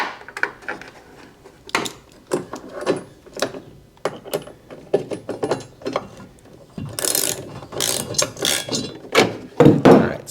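A hand ratchet turns a 19mm nut onto a bed channel stiffener bolt, giving sharp pawl clicks in short uneven bursts with brief pauses between strokes, close up and alone.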